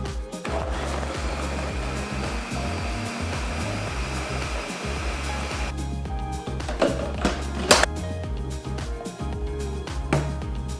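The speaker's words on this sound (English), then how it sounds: "Okay, now we're just gonna blend this up. I like to start on low and then I like to do a little bit of pulsing" A countertop blender whirs loudly and continuously as it purees mango and pineapple into a smoothie, the motor roar shifting slightly in pitch as the contents churn, no talking.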